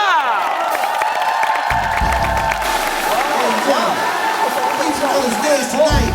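A studio audience on a Korean TV variety show applauds and cheers as the country's top-ranked pole dancer enters, with steady clapping and whoops under an announcer's voice.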